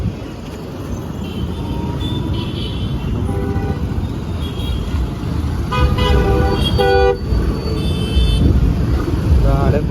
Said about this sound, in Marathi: धपाधप गाड्यांची क्रॉसिंग चालू आहे बा